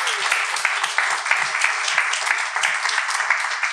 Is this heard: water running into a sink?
no